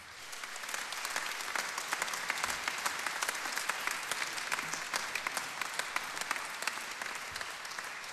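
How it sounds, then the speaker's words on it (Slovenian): An audience at a regional sports awards evening in Mozirje claps steadily for several seconds, many hands in a thick, even patter with sharper individual claps poking through, no speech over it. "Zato aplavz tudi tem novim nogometnim zanesenjakom."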